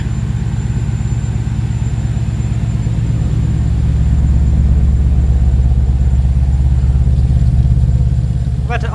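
Ford Capri fitted with a swapped Mercedes M113 5-litre V8 idling, a loud, close, steady low rumble with an even pulsing beat that swells slightly midway and holds throughout.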